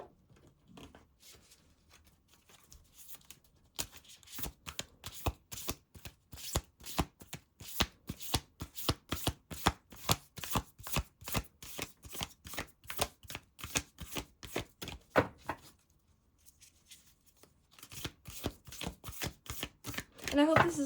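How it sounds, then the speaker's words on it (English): Oracle cards are shuffled by hand for a pick-a-card tarot reading, giving crisp rhythmic bursts of riffling that stop for a short pause and then start again, close and fairly quiet. "Let's pull some more oracle cards."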